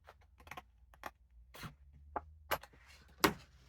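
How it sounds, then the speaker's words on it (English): Scissors trimming excess paper off a handmade tri-fold card, a series of short, close, crisp snips and rustles spaced irregularly, quiet overall and without talking. "I'm just going to cut that excess off."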